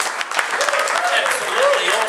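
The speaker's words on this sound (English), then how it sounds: "A bigger round of applause than that, come on." An audience at a live music event claps in a dense, steady burst of applause, close and loud, while a voice speaks over it.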